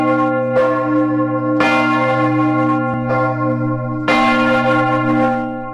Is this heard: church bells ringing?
yes